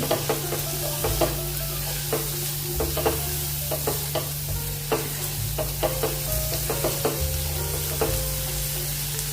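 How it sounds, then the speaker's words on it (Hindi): Chili flakes being stirred into a sizzling pan mixture for a wheat-flour snack: repeated rhythmic spatula scrapes against the pan, close and clear, over a continuous frying sizzle. "चिली फ्लेक्स डालेंगे आधा चम्मच। एक बार और से अच्छे से मिक्स कर लेंगे।"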